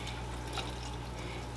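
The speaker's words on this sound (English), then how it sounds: "So now we're going to strain the mixture using a strainer." Herbal dandruff-treatment mixture poured through a strainer into a bowl, giving a steady, continuous wash of liquid splashing close by, with no talk over it.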